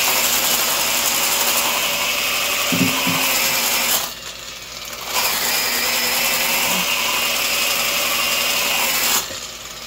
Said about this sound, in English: it sounds like it's bogging down, but that's actually just load on the motor